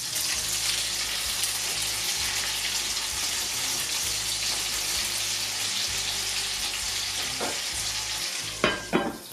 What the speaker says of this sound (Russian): Закрываю крышечку, жарим котлеты